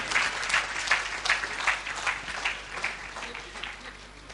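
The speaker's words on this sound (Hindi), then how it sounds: "इन सब के लिए जोरदार तालियां बजा" An audience at a stage play applauds the cast with a dense, steady patter of many hands clapping that swells slightly and then fades, with no speech over it.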